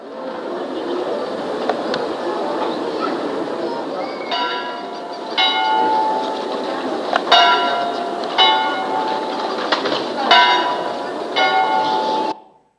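A cracked bell is struck several times over a dense, noisy wash of sound, each strike giving a dull, buzzy clang that fades quickly rather than ringing clearly.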